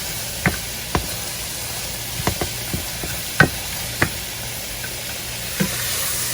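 Onions browning in a pan give a steady soft sizzle, broken by several sharp scraping taps of a utensil stirring against the pan at irregular intervals.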